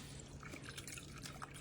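Broth mixed with cream of chicken soup is poured over a casserole in a pan, a soft, steady trickle with light drips, faint and continuous throughout.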